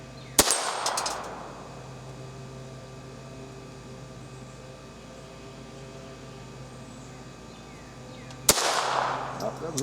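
A Ruger Mark IV or Smith & Wesson Model 41 pistol fires at a target outdoors, two sharp loud shots, one near the start and one near the end, separated by a steady low hum.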